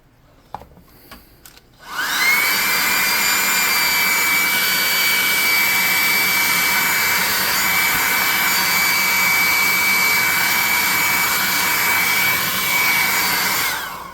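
A hair dryer blows steadily to dry paint on a hand-painted beholder miniature for a tabletop RPG. It starts after a couple of seconds of quiet handling and holds a loud, even whoosh with a whine on top to the end.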